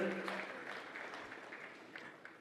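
A conference audience applauds the First Lady of the Central African Republic, a fairly faint, distant patter of many hands clapping that slowly tapers off over a couple of seconds.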